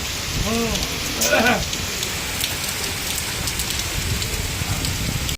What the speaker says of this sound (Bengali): বৃষ্টি পড়ছে কি জোরে বৃষ্টি